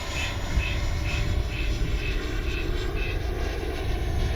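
An RC FMS 70mm F-18 jet runs its afterburner effect, a loud continuous roaring rumble with a faint repeating tone above it.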